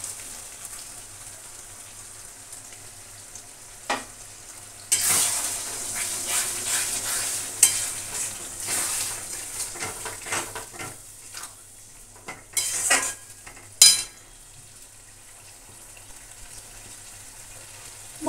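Masala paste fries in oil in a pan for a traditional Bengali potato and pea curry, a soft steady sizzle broken by bursts of spoon scraping and clattering cookware, with quieter stretches between.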